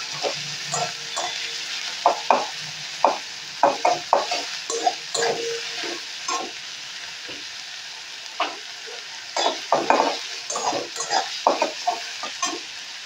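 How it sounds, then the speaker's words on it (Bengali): Flattened rice pulao being stirred and fried in a pan, with a steady close sizzle under repeated scraping and stirring strokes that come in irregular bursts throughout. "ভালো করে একটু নেড়ে চেড়ে নেব, একটু ভাজা ভাজা করে নিতে হবে।"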